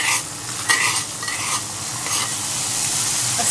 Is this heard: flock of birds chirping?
no